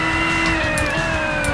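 Race car engine in the BeamNG driving game holds a steady, loud mid-pitched drone with tonal whine lines that shift slightly, sustained throughout without talk.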